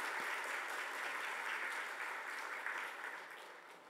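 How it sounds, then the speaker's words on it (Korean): A church congregation at a Sunday worship service applauds together, a full, even wash of clapping that holds steady and then gradually tapers off toward the end. "우리 박수 한번 더 해주실까요?"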